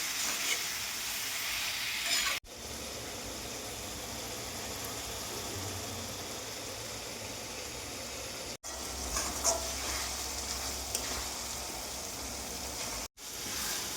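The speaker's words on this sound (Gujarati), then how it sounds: "લસણ અને ડુંગળીને કમ્પ્લીટ શેકાવા દેવાનું" Garlic and onion roasting in a pan for Gujarati tuver totha, giving a steady low hiss and sizzle with faint stirring, cut by two brief breaks.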